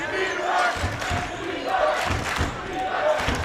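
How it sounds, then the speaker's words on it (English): Hastings high school boys basketball fans roar in a packed gym during a tight section semifinal, a sustained crowd swell rising and falling in waves, with a commentator talking over it. "now we got the Hastings crowd into it"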